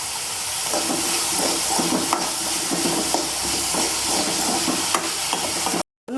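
Onions sautéing with green chillies and salt in a pan for an onion theeyal curry, giving a steady close sizzle with light stirring scrapes that runs continuously before cutting off briefly near the end.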